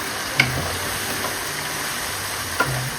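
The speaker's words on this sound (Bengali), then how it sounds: "আমি মশলাটার সাথে নোনা ইলিশটা ভালো করে একটু কষিয়ে নিব" Salted hilsa fish being stirred and sautéed with spices in a pan, giving a steady sizzle with a few soft scraping stirs spaced through the clip.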